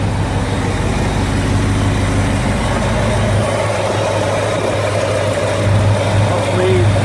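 A 1965 Pontiac LeMans engine idling steadily, a low rumbling drone with a constant throb, close by, while people talk over it.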